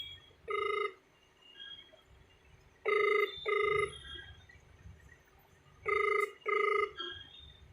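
A GSM mobile starter phone rings after an incoming call, three pairs of loud electronic ring bursts spaced a few seconds apart over a quiet background.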